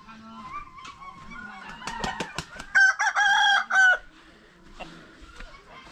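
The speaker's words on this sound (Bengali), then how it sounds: "মুরগিগুলো কি সুন্দর সুন্দর মুরগি" Village chickens cluck and honk in bursts, with a loud, strained crowing-like call cutting through in the middle, close by over a quiet background.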